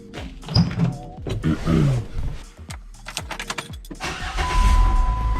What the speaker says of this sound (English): Always a good day when you start up the Jeep and there is no dashboard lights or warnings